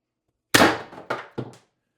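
An X-68 marker pistol fires, a sharp close report followed by two shorter thumps in quick succession, with no talking.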